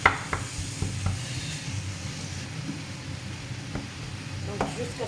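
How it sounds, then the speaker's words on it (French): Meat stirred and frying with vegetables in a pan for meat nems, a steady close sizzle with scraping stirring strokes and occasional clatters of the utensil against the pan. "jusqu'à ce que ma viande va bien se mélanger avec les légumes"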